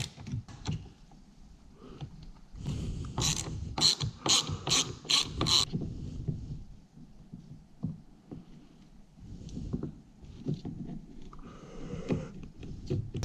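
Screws being backed out of an Aston Martin power fold mirror motor, heard as close, quick ratcheting clicks in short bursts, with softer handling and tool noises between them.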